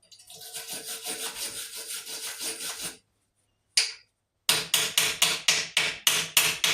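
Rapid scraping and tapping of metal gives way, after a pause, to a series of sharp, evenly spaced strikes of a small hammer on a stick weld, close up.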